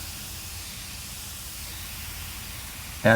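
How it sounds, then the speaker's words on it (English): An airbrush sprays paint through a stencil in a steady, even hiss that holds for about three seconds before a louder burst of noise cuts in at the very end. "When you're airbrushing, your piece should get better and better."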